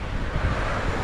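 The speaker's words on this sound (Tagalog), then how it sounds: "medyo malakas yung hangin" Strong wind rushes steadily past the microphone while out fishing near a tree, a constant low roar with buffeting gusts and no break across the short stretch.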